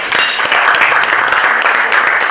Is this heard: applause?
yes